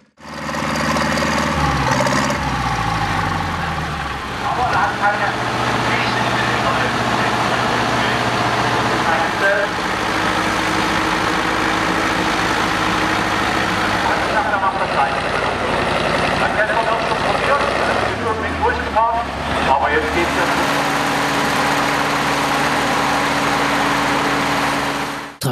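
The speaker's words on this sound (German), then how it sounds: "Traktoren verschiedener Gewichtsklassen versuchten mit dem Schlitten im Schlepptau so weit wie möglich auf der Steigung Strecke zurückzulegen." Tractors of different weight classes strain to drag a sled uphill at a tractor pulling contest, their engines roaring loud and continuous with rising and falling pitch as they labour on the slope.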